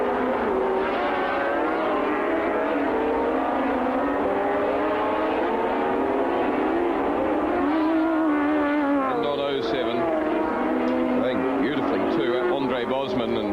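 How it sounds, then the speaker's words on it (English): Racing sidecar motorcycles, including a four-stroke Suzuki, roar continuously with a dense, sustained engine whine. A commentator talks over the noise throughout. "the four-stroke Suzuki, the wild card in the pack, comes out of the slipstream and pulls up alongside Ditchburn"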